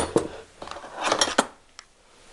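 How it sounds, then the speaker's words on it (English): Ceramic bowls and a spoon clink and knock together in a few sharp, close clattering bursts as a bowl is taken out while making breakfast, then it falls quiet apart from one last small tap. "So first, I'll get my bowl."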